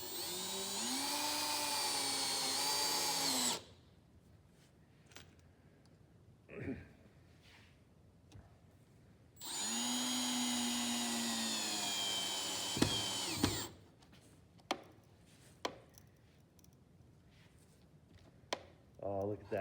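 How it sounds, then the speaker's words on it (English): A power drill drives screws into a wooden bench in two long, loud whirring bursts with a pitch that rises and shifts, separated by quiet gaps of clicks and handling. "she's just going to work around and putting all 8 screws in"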